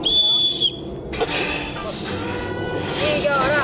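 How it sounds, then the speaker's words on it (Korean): A shrill whistle blast sounds at the start of a team game on a TV variety show, then gives way to lively crowd noise and chatter. "호루라기를 불면 시작합니다."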